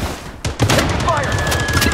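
Rapid bursts of automatic gunfire in an online shooter game, loud and dense, overlapping with in-game voice callouts and effects.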